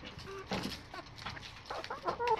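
Chickens cluck in scattered soft bursts close by, indoors, with a steady rustling background and no talk.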